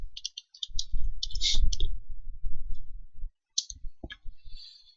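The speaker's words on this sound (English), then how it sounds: "I'm just going to double click this software" Computer mouse clicks on a desk, a few sharp close taps in quick pairs alongside faint handling noise, with quiet gaps between.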